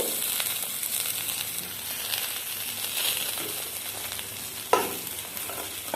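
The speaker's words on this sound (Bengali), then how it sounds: "এরপর সমস্ত সবজি আমি হালকা করে ভেজে নিচ্ছি।" Mixed vegetables fry lightly in a pan for a vegetarian drumstick curry, making an even crackling sizzle with a sharp stirring clack near the end.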